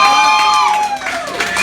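Audience at a Village Tavern comedy show applauding and cheering a comedian as he takes the stage, with loud, sustained clapping mixed with whoops and shouts.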